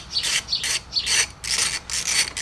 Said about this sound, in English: underneath most of these, this one's a 12 millimeter socket